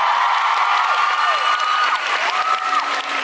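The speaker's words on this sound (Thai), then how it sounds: "ขอเสียงปรบมือ" Applause and cheering from a fan event audience fill the hall, a steady dense wash of clapping with crowd noise, continuous and loud throughout with no talk over it.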